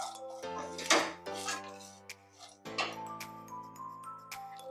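Melon and cucumber seeds roast in a pan over a low flame for dry-fruit laddoos. A stirring spoon scrapes and clinks against the metal pan in a few distinct strokes over a steady background hum.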